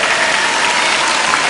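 A studio audience on the French talent show Star Academy claps in a dense, loud, continuous burst of applause, steady throughout with no voices over it.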